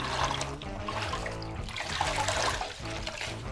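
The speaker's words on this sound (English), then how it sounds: "I'm gonna wring it out again." A grout-laden sponge is wrung out into water, releasing a close, splashing trickle and dribble that swells and fades over a few seconds, with no talking.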